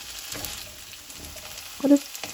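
Masala poori frying in hot oil, a quiet steady sizzle with a few soft stirring clicks and one brief louder knock near the end.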